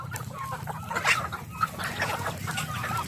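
Chickens and ducks cluck, quack and chatter together at feeding time, a dense, steady flock noise close by with a few louder calls standing out and no talk.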